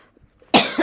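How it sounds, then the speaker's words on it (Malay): A single sharp, close cough bursts out after a moment of near silence, with a brief throaty tail. "maaf terbatuk pula"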